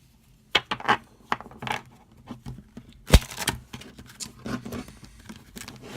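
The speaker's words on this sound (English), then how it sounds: "Can't you tell I'm just learning to shuffle?" Quick papery riffling and flicking of playing cards, in short uneven bursts with sharp slaps, fairly close, no voices.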